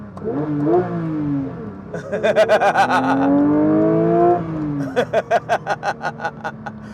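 A manual Porsche GT3, stock software with a downpipe exhaust, revs loudly in several sharp bursts, the note rising and dropping between pulsing blips, close and unmuffled.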